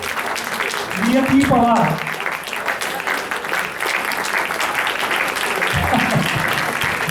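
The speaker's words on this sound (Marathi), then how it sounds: "टाळ्या चालू राहू द्या" Continuous audience applause at a school Diwali program, broad and sustained throughout while a voice reads out names over it.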